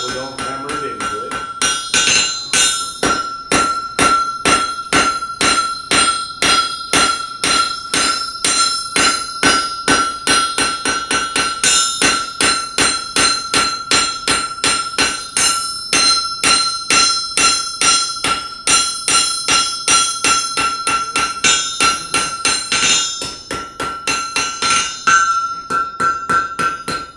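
Rapid, steady blacksmith hammer blows on hot iron at a forge ring out continuously, each strike bright and clanging with a sustained metallic tone, close and loud throughout.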